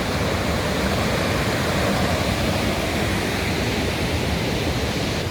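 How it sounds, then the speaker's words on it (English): Sapan Hin waterfall in Thailand, more a rushing river than a drop, giving a loud, steady broadband roar of churning water that never lets up, with no voices. "This is the Sapan Hin waterfall."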